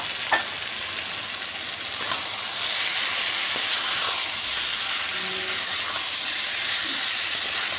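Fish head frying with eggplant masala in a pan gives a strong, steady hiss of sizzling oil, with a few light clinks and scrapes of stirring, close and continuous throughout.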